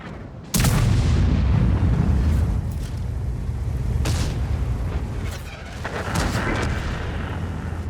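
A tank destroyer's gun fires in a tank combat game, a sudden loud close blast followed by a long rumbling roar, with further sharp cracks and booms as the battle continues.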